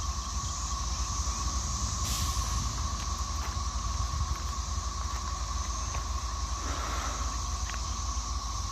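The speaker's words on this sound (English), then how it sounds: "he can go at track speed backwards with that locomotive" Diesel locomotive running backwards along the track, a steady rumbling drone with a constant high whine and occasional faint clanks, moderately distant.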